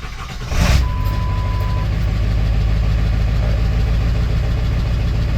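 A 7.3 Powerstroke diesel truck engine turns over briefly, then settles into a steady, rumbling idle that stays close and even for the rest of the clip.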